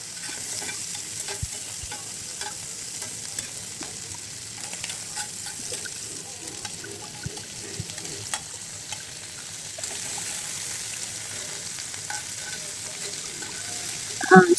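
Finely chopped bitter gourd and potato pieces fry in a pan and are stirred repeatedly, giving a soft sizzle with frequent scraping and clattering of the spatula. A louder clatter comes at the very end.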